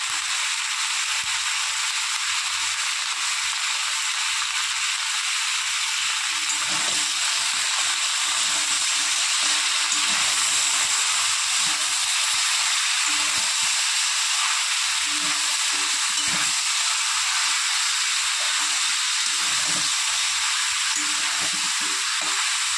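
Winter vegetables sautéing and being stirred in a pan with salt and turmeric, a steady broadband sizzle running throughout, close and moderately loud, with faint scraping stir sounds underneath and no talk.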